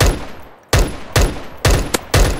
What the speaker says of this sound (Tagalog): Tingnan natin kung aabot yung baril natin dito.